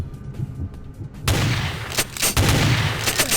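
Rapid shotgun blasts in Vampire: The Masquerade – Bloodlines, loud and close, with a sudden burst of gunfire that keeps going in heavy repeated booms.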